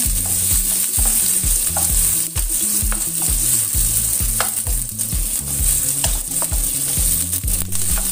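Spice paste for beef rawon stir-fries in a hot pan, sizzling loudly and steadily while a spatula scrapes and knocks against the pan in a busy, repeated rhythm, with no talking.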